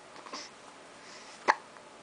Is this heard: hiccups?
yes